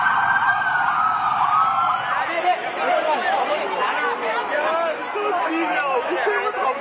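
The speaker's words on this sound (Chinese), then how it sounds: "从目击者拍摄爆炸现场画面可以听到救护车警笛声" Ambulance sirens wailing at a bombing scene in a busy Bangkok shopping district near the Erawan Shrine, one rising and falling siren mixed with crowd chatter and shouting voices.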